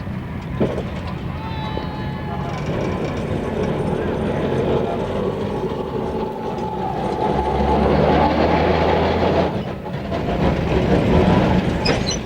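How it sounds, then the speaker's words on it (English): Rail Scrubber 2, a rail-cleaning tram towing a drinking water trailer, rolls along the tracks into Esplanade station, giving a steady close rumble with faint wheel and rail clatter, and people talk over it. "Here Rail Scrubber 2, complete with its drinking water trailer, rolls into Esplanade."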